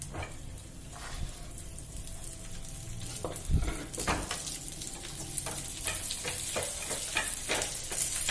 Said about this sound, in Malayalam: നെയ്യൊന്ന് ഉരുകി വന്നു കഴിഞ്ഞാൽ അതിലേക്ക് കാഷ്യൂനട്ടും മുന്തിരിയും ചേർത്ത് കൊടുക്കാം.